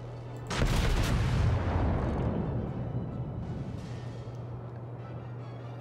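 In a World of Warships naval battle, the Kongo battleship's main guns fire: one sudden heavy blast that rolls into a long, thundering rumble and slowly fades over several seconds, with a steady engine hum underneath.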